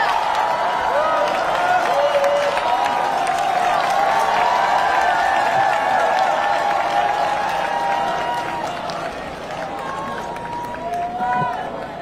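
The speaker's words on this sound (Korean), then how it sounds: "큰 박수로 격려해 주시기 바랍니다" A crowd at a political party event gives sustained loud applause with cheering, a dense wash of clapping that carries on for several seconds before easing off somewhat, with voices mixed in.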